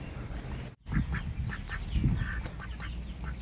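Swan-like ducks quacking nearby in a few short honking calls, with a low background rumble and a brief dropout near the start.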